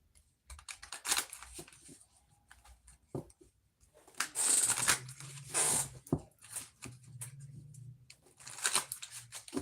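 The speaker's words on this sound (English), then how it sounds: "Last shuffle. Last deck. Last shuffle." Quick bursts of cards being riffled and shuffled, several rounds with short pauses between, close by and fairly quiet.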